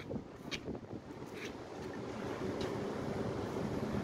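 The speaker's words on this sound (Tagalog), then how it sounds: "Lakas ng agos." Strong water current and choppy waves surging around moored fishing vessels during a typhoon, a steady rushing wash with gusts of wind buffeting the microphone and a few faint knocks.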